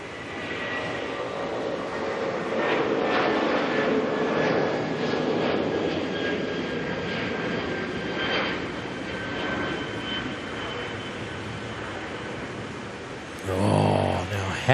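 Jet engines of an airliner departing Auckland airport roar as a broad, distant rumbling wash with a faint steady whine, rising and easing over the stretch, with brief voice sounds near the end.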